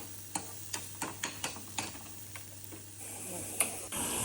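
Onion and green garlic sizzle in hot oil in a pan as a tempering for soup, with a soft frying hiss and a run of sharp, evenly spaced clinks from stirring against the pan.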